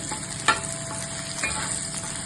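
Onions fry in a pan, a steady close sizzle with a couple of brief stirring scrapes, loud and alone without talk.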